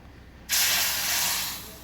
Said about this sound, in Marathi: आता आपण फोडणी देऊया कटाच्या आमटीला